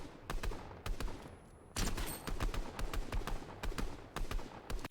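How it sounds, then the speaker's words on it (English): Enemy gunfire in the Fortnite video game, a steady run of sharp shots cracking in short bursts, some nearer and louder, with a heavier burst partway through. "These guys are still shooting at us."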